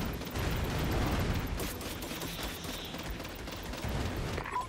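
Contra guns in Vicious Attack Llama Apocalypse fire 8-bit explosions in a dense, continuous burst of loud crackling blasts, heard alone with no talk.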